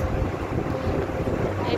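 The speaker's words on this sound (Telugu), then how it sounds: "ఇప్పుడు కలకత్తాలో గంగా నదిలో బోట్లో వెళ్తున్నాము" A boat ride on the Ganga (Hooghly) river at Kolkata: a constant rumbling roar of wind buffeting the microphone and water rushing beneath the boat, loud and unbroken throughout.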